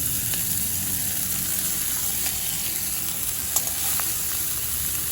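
Chopped fenugreek leaves fry with potatoes in a pan, giving a steady close sizzle and hiss with occasional light stirring clicks and pops.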